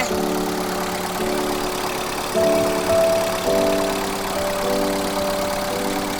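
A Mitsubishi Lancer GLXi diesel engine idles steadily nearby with a low, even hum and faint knocking, rising slightly in pitch now and then, with no talking.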